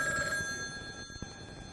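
Telephone bell ringing in a home, a steady sustained electronic ring with bright tones, close and clear with no talking.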